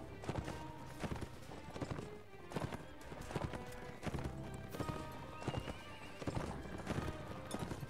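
Horses in the medieval battle game Mount & Blade: Warband gallop with rapid rhythmic hoofbeats through a busy combat soundscape, with neighs and whinnies rising over the clatter, loud and continuous.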